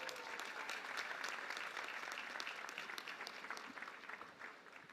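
Graduating class applauding at a university commencement ceremony in Ghana: sustained, dense clapping from a large crowd filling the hall, steady and loud throughout with no pauses.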